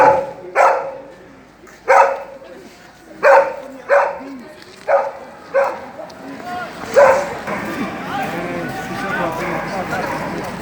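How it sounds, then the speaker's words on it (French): Dog barking at an outdoor street protest, a run of about eight sharp, loud barks spaced roughly a second apart, then giving way to a general crowd murmur. "Il y a un chien jaune."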